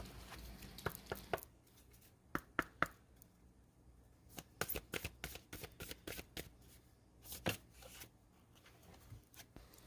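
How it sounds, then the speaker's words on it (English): Tarot cards are shuffled by hand in quick riffling bursts and soft slaps, close and fairly quiet, with brief pauses between rounds. "Let me shuffle one more time."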